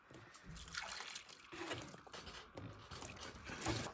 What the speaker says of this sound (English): you can't really pour it through the cage if there's barely any in there